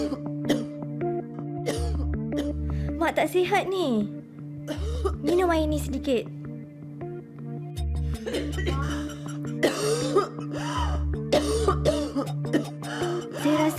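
A sick woman coughs repeatedly in a dramatized scene about pneumococcal pneumonia, several harsh bursts spread through the clip while another person speaks to her in between.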